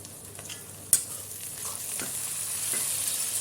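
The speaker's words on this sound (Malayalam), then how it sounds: "ഈ സമയത്ത് നമുക്കിതിലേക്ക് 2 തക്കാളി ചെറുതായി കട്ട് ചെയ്ത് ചേർത്ത് കൊടുക്കാം." Two chopped tomatoes dropped into frying masala for chicken biriyani, a sharp splash followed by a steady hissing sizzle that swells slightly as they cook.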